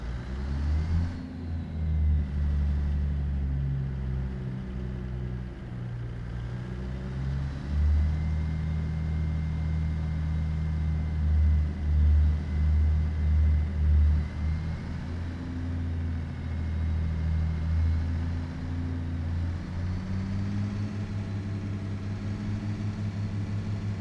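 Truck engine in American Truck Simulator, a deep low rumble that swells and eases as the rig pulls out and drives off, steady and close with no talk.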